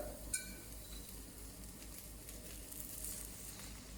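Onions frying in olive oil in a hot casserole over high heat, a steady soft sizzle throughout with a brief clink near the start, no voices.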